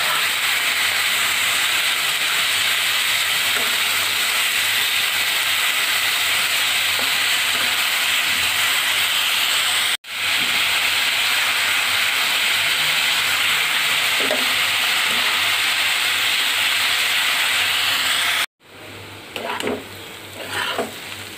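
Bitter gourd (karela) fries with salt in a pan, making a loud continuous sizzle and hiss close by, with two brief cutoffs and stirring scrapes toward the end.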